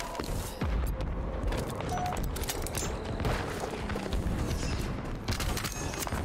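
Gunfire and booming blasts in a Halo Infinite multiplayer match on PC, a dense, continuous barrage of shots and thuds that stays loud throughout with no pauses.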